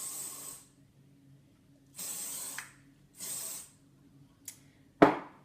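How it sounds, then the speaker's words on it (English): Three short bursts of hairspray from an aerosol can hiss over curled hair, each lasting about half a second, followed by a couple of sharp clicks near the end. "we're going to hairspray just the top section, just to hold it in"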